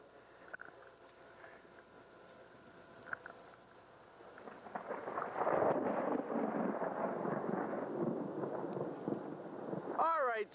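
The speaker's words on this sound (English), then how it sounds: "the clouds, and if you listen you can hear the thunder" Distant thunder in Maine in summer rolls in as a low, broad rumble that swells midway and lingers, mixed with wind buffeting the microphone.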